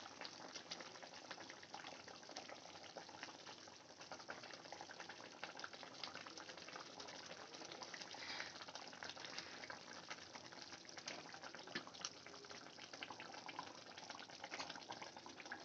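Egg curry gravy boils in a pan with a steady, even bubbling hiss that stays fairly faint and unbroken throughout, with no voices.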